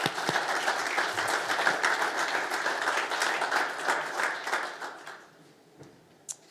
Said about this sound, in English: a big round of applause for Philip Stamp.